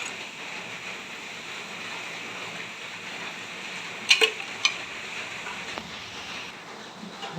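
Chopped cabbage cooking in a pan gives a steady, soft sizzle with a few brief clinks of a utensil against the pan partway through.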